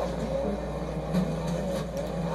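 A car driving in the Fortnite video game, a steady engine drone with a low rumble that holds constant for a couple of seconds, with no talk over it.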